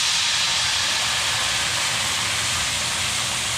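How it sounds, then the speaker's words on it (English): A pot roast pan sizzling hard as red wine is poured in to deglaze it, a steady loud hiss with a broad bright spray of bubbling that stays even for the whole span, with no talk. "now I'm going to deglaze it with a little red wine."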